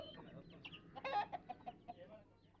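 Vanaraja and Gramapriya backyard chickens cluck in a series of short, fairly close calls that rise into a brief burst of squawking, over faint outdoor background noise.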